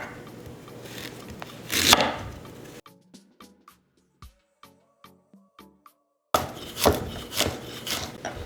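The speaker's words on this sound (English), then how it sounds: "first I'm going to crush my garlic and some ginger." Garlic and ginger are crushed in a kitchen for chicken karahi, with a scraping, grinding burst at the start, then a quiet run of separate short knocks and taps, then more heavy grinding at the end.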